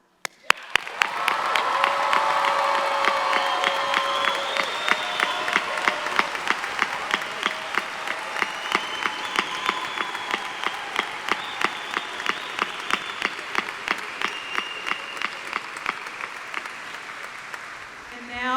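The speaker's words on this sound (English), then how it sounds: "Let's clap." An audience applauding at a 2025 college graduate hooding ceremony in an arena: sustained, dense crowd applause that settles into steady rhythmic group clapping for a long stretch, with faint cheering mixed in.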